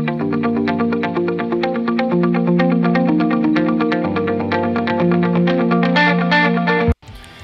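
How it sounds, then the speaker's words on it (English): Distorted electric guitar tone from a famous record, a sustained chugging riff with layered effects and echo, loud and steady throughout before cutting off abruptly near the end. "the guitar tone we're going to recreate today sounds like this"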